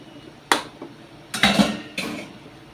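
A ladle clanks against a pan while stirring tomatoes, garlic and onion, giving three or four distinct metallic knocks spaced over a couple of seconds, close and without talk.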